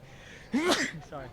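A single abrupt sneeze bursts out during a golf interview indoors, close and fairly loud, followed by a brief bit of speech.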